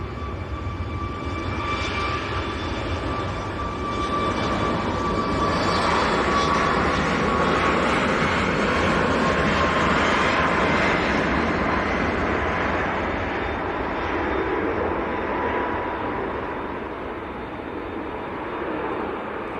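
Steady jet engine rumble from an Emirates airliner lining up full length on the runway at Manchester Airport, a broad continuous whine and roar at moderate distance with faint tonal hums, no voices.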